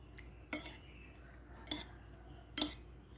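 Cooked rice is mashed and pressed through a strainer to make baby food. Three sharp metallic scrapes of a spoon against a sieve or bowl come at uneven intervals over a quiet background.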